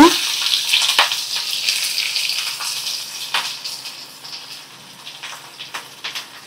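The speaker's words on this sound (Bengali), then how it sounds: "গোটা জিরে লাল হয়ে গেছে। এবার আমি কুচানো পেঁয়াজ দিয়ে দেব।" Chopped onions hit hot oil with reddened whole cumin seeds, giving a sharp initial burst of sizzling that settles into a steady, crackling fry close by.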